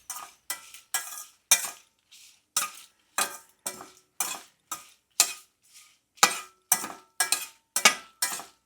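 Seeds dry-frying in a pan for idli podi, a string of separate scraping stirs with rattling seeds, each short and crisp, with brief pauses between strokes and no voices.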